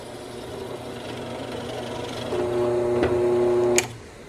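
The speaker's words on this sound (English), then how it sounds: "So let's get that trap drilled in the bottom." A power drill bores a hole in the bottom of a beaver trap, its motor whining steadily for about a second and a half over a low mechanical rumble before cutting off abruptly.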